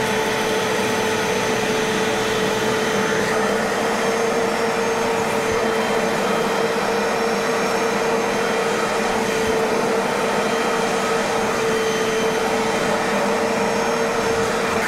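A Bissell Little Green carpet cleaner fitted with its standard attachment runs with a steady, loud motor whine and airy suction roar, close and unbroken throughout, with no voices.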